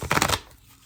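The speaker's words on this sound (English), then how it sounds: "And as you can see, I am shuffling." Playing cards shuffled during a tarot-style reading, a quick burst of several crisp riffling flutters, a short pause, then another brief riffle starting, close and fairly loud.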